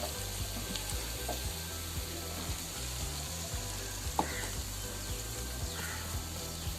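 Chicken fry sizzling steadily in a hot pan, close and fairly loud, with occasional soft scrapes and clinks of a spoon stirring through it; no talking.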